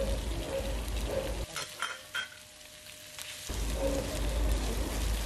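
Chicken pieces hit hot oil with onion in a pan and fry with a loud, steady sizzle that briefly drops while being stirred, then surges back up.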